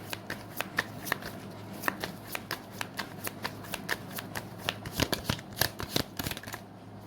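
Tarot cards are shuffled by hand in a quick run of crisp, papery riffles and snaps, close and fairly loud, with a quiet steady hum behind and no voices.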